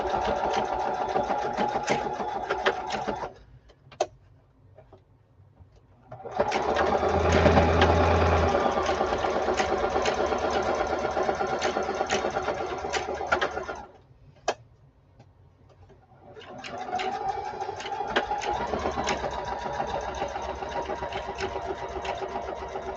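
Sewing machine stitching a narrow zigzag on a scrappy fabric drawstring bag, steady fast mechanical whirring in three long runs separated by brief pauses, close and loud, no talking.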